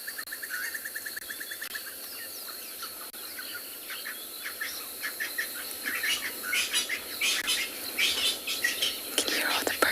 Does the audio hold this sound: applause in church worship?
no